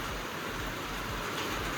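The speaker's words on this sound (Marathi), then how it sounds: "आता तर अजून जोरात आला पाऊस" Heavy monsoon rain pours down outside a shop, a dense, even roar of falling water close by and unbroken.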